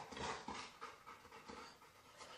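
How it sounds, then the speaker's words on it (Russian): A dog that burst into a TV news studio pants quickly and rhythmically close to the microphone, a run of quiet breathy huffs over about two seconds with no talking. "во время новостей в студию телеканала «Мир» ворвалась собака"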